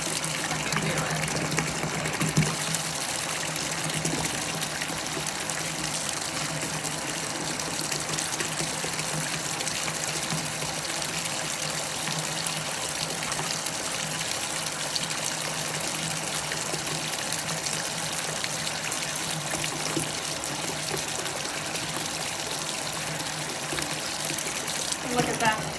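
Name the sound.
bubble spinner held under running bath water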